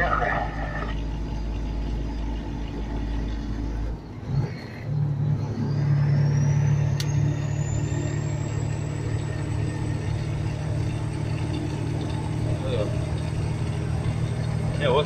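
A truck engine drones steadily while driving on a Russian road during a long-haul March run, with a deep continuous low rumble and a brief dip in the middle; speech is present throughout.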